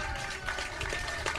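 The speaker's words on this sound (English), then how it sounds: "Round of applause for Paul, who's here today." A radio studio audience gives a short burst of applause during a rock band interview, a dense, even patter of clapping at moderate distance.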